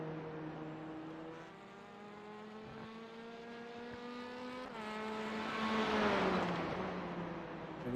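Race cars in a video game TCR league race whine through rising and falling engine tones, one car holding a steady drone before a louder engine swells and passes near the end, with no talk.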